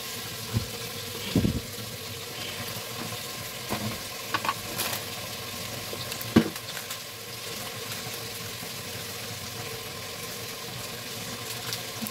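Food frying in a pan while being stirred, a continuous soft sizzle with scattered scrapes and clinks of the spoon against the pan, close and steady with no talk.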